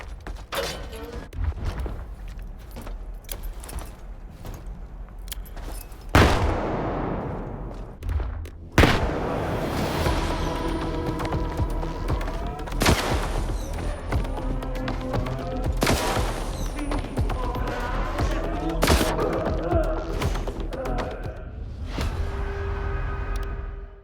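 Heavy gauss cannon blasts boom out in S.T.A.L.K.E.R. 2, several loud sharp shots with crashing impacts and ringing, electronic-sounding tails amid game noise.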